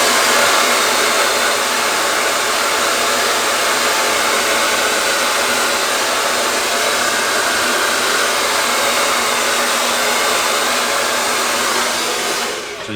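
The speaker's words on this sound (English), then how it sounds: "And then I'll blow dry this side down." A hair dryer blowing steadily on a beard, a loud, close, continuous whooshing roar that holds without a break and drops slightly just before the end, with no talking.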